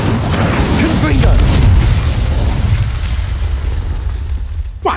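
Confringo blasting spell explosions in the video game Hogwarts Legacy, a sustained rumbling boom and crackle that fills most of the stretch, loud and close, with a short sharp burst near the end and a voice speaking faintly underneath.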